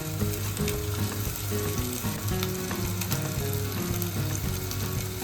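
Steady, crackling sizzle of Bombay duck fish frying in hot oil, loud and close, with faint clinks and scraping throughout.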